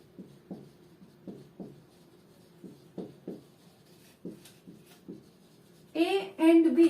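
Pen strokes on paper while a solution is worked out by hand in a maths lesson, a series of short scratchy marks at an uneven rhythm, close and fairly quiet, with a voice speaking at the very end.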